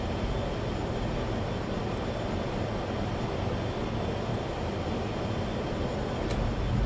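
Simulated F/A-18 Super Hornet jet in Microsoft Flight Simulator, heard as a steady, loud broadband engine roar with a deep low rumble and airy hiss, continuous and unchanging throughout with no speech.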